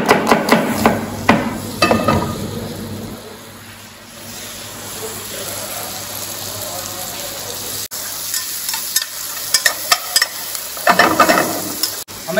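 Onions sizzle in melted butter in a pan for leek and potato soup, with clanks and stirring from a utensil loudest at the start and end and a quieter steady fry between.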